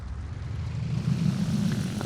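A Mitsubishi A7M1 propeller fighter in War Thunder, throttled back to cool an overheated engine, gives a steady low drone that swells slightly toward the end, with no talk.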